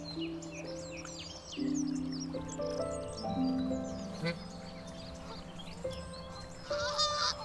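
Several bar-headed geese honking and calling back and forth, nasal tones overlapping in a lively flock chorus with bird chirps around.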